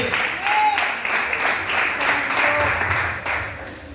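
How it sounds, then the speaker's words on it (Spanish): A church congregation claps loudly in praise during a Spanish-language worship service, the rhythmic claps rising in waves over music and ringing across the room. "Dale fuertes palmas al que vive y al que reina."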